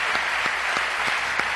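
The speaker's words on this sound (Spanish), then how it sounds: "Let's have a big round of applause for our podium finishers in Moto2 this season." Brief, loud and continuous applause from a large crowd at the 2015 FIM MotoGP Awards ceremony, greeting the season's Moto2 podium finishers, with a few sharper claps standing out.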